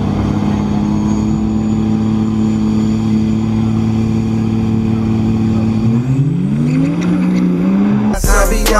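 A diesel farm truck engine drones steadily up close, holding a low even tone before pitch rises as revs climb, then ends in a sudden loud burst near the end.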